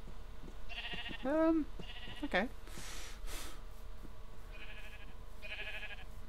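Sheep in the video game Minecraft bleat a couple of times, short wavering calls heard close over a steady background, while a person briefly speaks.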